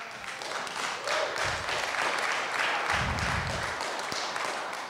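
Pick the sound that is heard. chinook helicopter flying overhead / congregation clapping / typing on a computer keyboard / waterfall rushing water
congregation clapping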